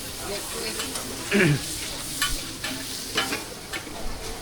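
Shellfish frying in oil at an evening market stall, a steady close sizzle with intermittent scraping stir strokes, under faint background chatter and a brief voice.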